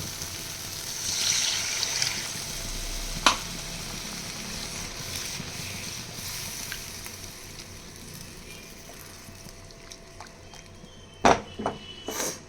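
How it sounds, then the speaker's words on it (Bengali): Gravy sizzles and bubbles steadily in a pan with faint stirring and occasional sharp clinks, as a little water is poured in, quiet and close. "ভালো করে নাড়বো দিয়ে দেব আরও একটু জল"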